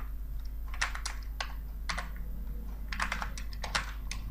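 Computer keyboard keys tapped while working in an Excel spreadsheet, short bursts of clicky keystrokes in quick irregular runs with brief pauses, steady and moderately close, no voices.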